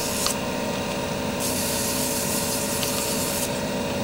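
Fine-grit sandpaper rubs steadily against a wooden pen, a continuous hissing scrape up close with a couple of brief pauses and no talk.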